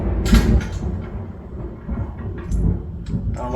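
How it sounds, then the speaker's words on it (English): Low rumbling thunder rolls in the distance, deep and sustained, with a few sharper knocks and clatters nearby. "now it's thundering outside."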